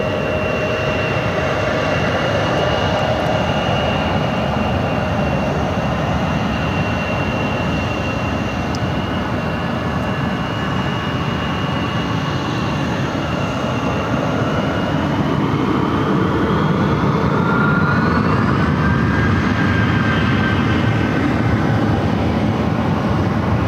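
An aircraft arriving at Phoenix airport, a steady broadband engine roar with a whining tone that rises near the end, loud and continuous throughout with no talk.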